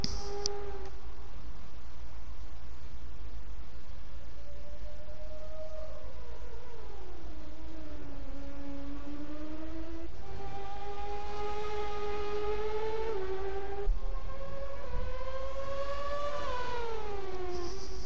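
A high, whining Formula One engine note from a 1994 Benetton B194 in the F1 2020 video game at Silverstone rises and falls through shifting pitches, sweeping up and down repeatedly like a car accelerating and braking, steady and fairly loud throughout.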